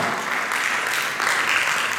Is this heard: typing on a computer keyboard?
no